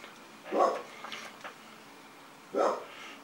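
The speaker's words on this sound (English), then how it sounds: "Coco, stop barking" A dog barks indoors during a Glock gas blowback airsoft repair, two loud close woofs about two seconds apart with a few softer yips and whines between them.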